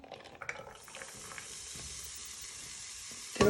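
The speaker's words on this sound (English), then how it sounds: "you want to fry your red onion and garlic" Red onion and garlic frying in a pan for spicy rice, a soft continuous sizzle with faint stirring scrapes, quiet and close, ending in a louder clatter.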